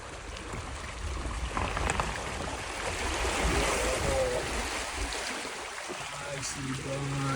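Water rushing broadly across a road flooded after heavy rains, a steady wash of flow with splashing that holds loud and continuous throughout, with brief voices at moments.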